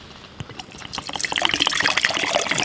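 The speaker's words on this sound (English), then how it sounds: "Pour some water into this." Water is poured into a plastic MRE ration bag, starting with a few drips before building into a steady, close trickle that splashes and gurgles as the pouch fills.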